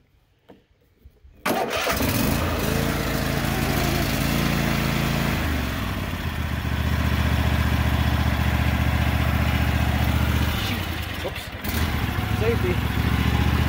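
A Cub Cadet XT1 lawn tractor engine cranks and fires up after a quiet moment, then settles into a loud, steady idle close by. A voice speaks briefly partway through.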